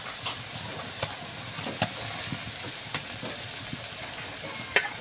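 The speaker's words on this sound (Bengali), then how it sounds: "এবার মাছগুলো দিয়ে দিচ্ছি।" Fish goes into a simmering curry in a pan, giving a low bubbling sizzle with a few sharp clicks and knocks from utensils spread across the stretch.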